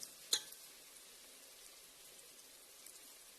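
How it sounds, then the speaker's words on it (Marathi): Spice masala fries in oil for Kolhapuri misal, a soft steady sizzle and fine crackle throughout, opening with one brief sharp clink, faint and close with no talking. "ते चांगलं तेल सुटेपर्यंत भाजून घेऊया आपण"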